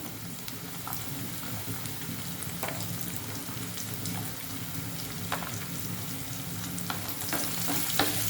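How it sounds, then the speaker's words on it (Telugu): Garlic frying in a pan with onions that are already browned gives a steady, close sizzle and crackle, broken by scattered scraping stirs, with no voices. "ఇప్పుడు వెల్లుల్లిపాయలు వేస్తున్నాను."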